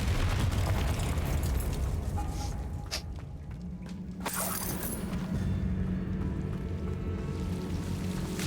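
Confringo blasting spell going off in Hogwarts Legacy, a sharp burst around the three-second mark followed by another blast near four seconds, set against a dense rumbling game soundscape that continues throughout.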